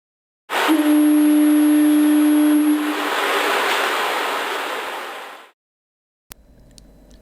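A foghorn at a Boston lighthouse in Trainz 2019 gives one long, loud, steady tone over a broad wash of ocean surf. The wave noise swells and fades out before a faint sound starts near the end.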